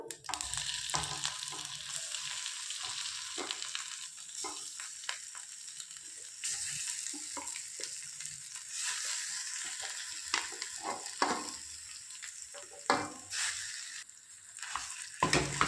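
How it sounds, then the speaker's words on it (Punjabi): Cumin and coriander seeds roasting in a pan, followed by mashed potatoes being mixed in, give a steady close sizzle with scattered scraping and stirring knocks throughout, no voices. "ਇਹਨਾਂ ਨੂੰ ਆਪਾਂ ਹਲਕਾ ਜਿਹਾ ਹੁਣ ਭੁੰਨ ਲਾਂਗੇ ਜੀਰੇ ਨੂੰ ਤੇ ਧਨੀਏ ਨੂੰ"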